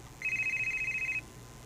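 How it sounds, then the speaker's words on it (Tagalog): A cellphone ringtone plays a single rapid, buzzy electronic trill for about a second, clear and fairly loud over a quiet room-tone background. "May bagting ang akong cellphone."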